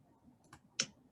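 Two soft, quick computer mouse clicks, half a second apart, while early-literacy phonics software is demonstrated. The room is otherwise quiet.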